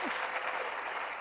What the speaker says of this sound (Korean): 박수 쳐주셔야 됩니다.